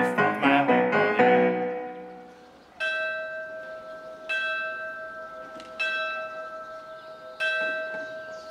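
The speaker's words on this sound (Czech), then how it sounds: "Když slyším zvon, jak odměřuje čas" A church bell tolls several times at steady intervals, each strike ringing out clear and resonant, following a brief jumble of overlapping chimes at the start.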